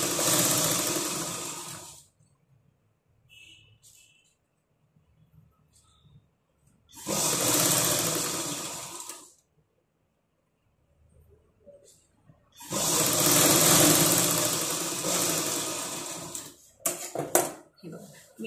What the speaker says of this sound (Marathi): ही टीप मारताना हे थोड्या थोड्या अंतरावर तुम्ही सेटिंग करून घ्यायचे आणि मग टीप मारायची.